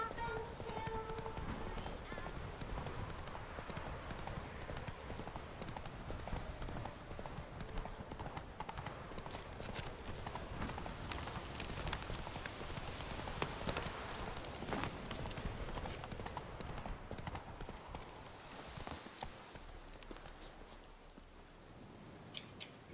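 Hooves of a galloping horse in The Witcher 3 clip-clop steadily and continuously beneath a busy, full game soundscape for the whole stretch, easing slightly near the end.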